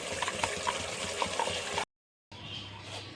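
A pot of chicken curry with ground masala bubbling and sizzling steadily at close range, cut off by a brief stretch of silence before the simmering resumes.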